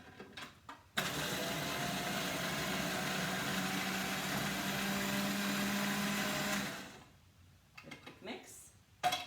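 A food processor whirs continuously for about six seconds as it blends beans, tomatoes and seasoning. It is loud and close, starting abruptly and winding down, with quieter handling noises before and after.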